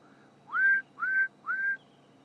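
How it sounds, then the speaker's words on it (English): Three short rising whistled notes from a bird, evenly spaced and clear against a quiet background. "Much more birdsong this morning than I've heard for the last little while."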